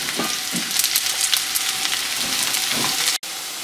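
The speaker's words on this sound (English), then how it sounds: "We're going to let these fry until they're completely browned." Onions frying in hot oil for biryani give a steady, dense sizzle with crackling spatters close by, briefly cut off near the end, then the sizzling resumes.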